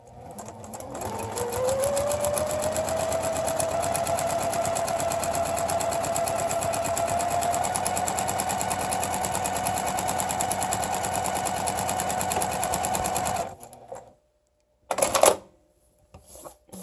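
A sewing machine stitches fabric backed with paper at a short stitch length, running as a steady, close mechanical whir for about twelve seconds, then stopping, followed by a few brief handling clicks.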